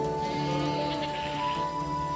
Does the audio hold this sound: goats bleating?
yes